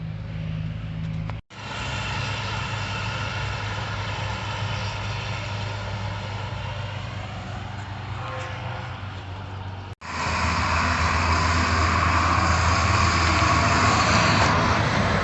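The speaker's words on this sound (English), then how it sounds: "See that big old tractor going down the road there" A big tractor drives down the road, a steady, fairly loud engine drone with broad road rumble continuing for the whole stretch, briefly cut twice, with no talking.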